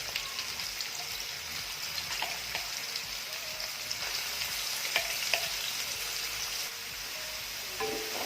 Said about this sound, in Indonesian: baru kita tumiskan bumbu halus yang tadi kita blender ya guys